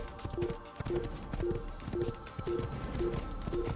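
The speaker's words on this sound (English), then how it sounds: "I'm riding the legendary white horse" A white horse trots in the Assassin's Creed video game, its hooves clip-clopping in a steady repeating rhythm over a busy game soundscape, close and moderately loud.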